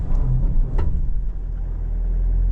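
A 2025 Mitsubishi Triton GLX-R in 4H with its wheels spinning on a loose surface, the engine droning loudly and steadily with a few brief knocks and scrabbles from the tyres.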